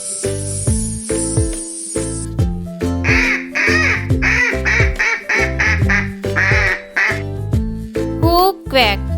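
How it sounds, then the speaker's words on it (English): A duck quacks in a children's animal-sounds sequence, a run of loud, nasal quacks with a clear rhythm, set over a bright musical backing with a jingle near the start and a voice speaking in between. "A duck quacks."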